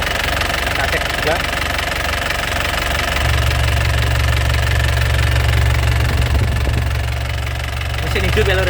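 Black 2007 Toyota Grand Touring car engine idling steadily, a low continuous hum with a deeper rumble setting in partway through, close by, while someone talks over it.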